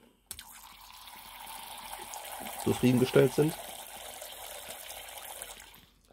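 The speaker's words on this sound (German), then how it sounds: "Geben erstmal ein bisschen Wasser" Water poured into a tarantula enclosure housing Brachypelma and Tliltocatl spiders, a soft steady splash and trickle running for several seconds, with a person talking over it partway through.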